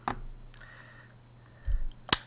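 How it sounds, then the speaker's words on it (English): A handheld corner-rounding punch clips the corners of a handmade intaglio print card, giving a couple of sharp, close clicks, one near the start and a louder snap at the end, with soft handling noise between. "I have a handy little corner cutting tool that I bought"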